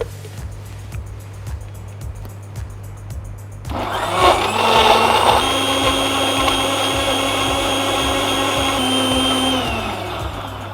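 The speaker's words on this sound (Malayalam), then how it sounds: "നമുക്കിതൊന്ന് ജ്യൂസ് അടിച്ചെടുക്കാം." A kitchen mixer blends bitter gourd juice with ice cubes: after a low hum and faint ticking, the motor kicks in loudly, whirring and grinding steadily, then winds down near the end.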